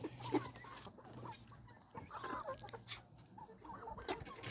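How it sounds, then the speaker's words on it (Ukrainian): A rooster clucking and murmuring softly amid farmyard background noise, with scattered bird calls, fairly quiet and continuous. "Ось сидить півник, якого хочу залишити собі."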